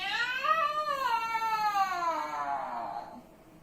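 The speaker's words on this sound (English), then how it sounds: "the cat goes meow" A single long, drawn-out cat meow, rising then slowly falling in pitch, close and clear with no talking.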